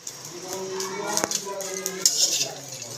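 Dried anchovies (dilis) stirred and dry-roasted in a pan before any oil is added, giving a steady scraping and rattling of utensil against metal, with a brief louder clatter midway and a voice talking over it.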